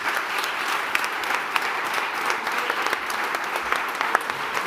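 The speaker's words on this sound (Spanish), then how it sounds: "Un aplauso." An audience at a panel discussion on industry sustainability claps steadily, a dense sustained round of applause filling the room throughout.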